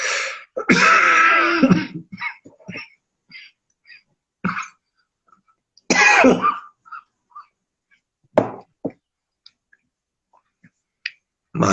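Several short, sharp coughs spaced apart, the first few louder and denser, with quieter bursts trailing off through the rest of the clip.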